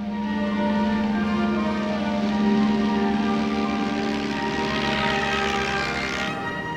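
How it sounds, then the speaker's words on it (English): A Sikorsky amphibian plane from 1927 roars on takeoff, its steady, loud propeller-engine drone holding a low hum with droning harmonics throughout, swelling slightly midway before easing near the end. "another American, Mrs. F.W. Grayson, took off from New York with 3 others in a Sikorsky amphibian bound for Paris."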